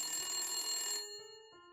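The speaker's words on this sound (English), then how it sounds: "But the phone is ringing." A telephone rings in the Nancy Drew video game Message In A Haunted Mansion, a bright trilling ring that cuts off partway, followed by softer lingering tones, with no speech.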